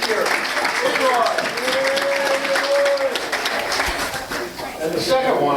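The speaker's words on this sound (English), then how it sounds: "let's give him a big round of applause" A crowd at a Lions Club meeting breaks into a sustained round of clapping that fills the room, with voices talking and a brief whistle over the applause.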